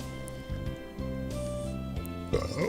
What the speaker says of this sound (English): Sorry for burping.